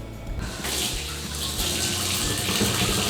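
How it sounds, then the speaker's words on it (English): Tap water runs steadily into a sink as hands are washed while baking hot cross buns, a close, continuous splashing flow that grows a little fuller partway through. "don't forget to wash your hands thoroughly"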